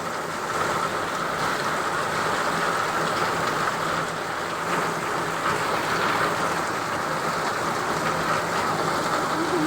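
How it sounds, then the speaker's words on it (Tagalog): Heavy rain pours steadily at night, a dense, even hiss of drops hitting surfaces without letup, loud and constant from start to finish. "Malakas ang ulan."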